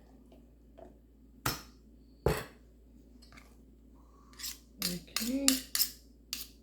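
Spoon stirring mayonnaise into a creamy deviled egg filling in a bowl: a few sharp clinks and scrapes, sparse at first and then bunched together, with a brief spoken word partway through.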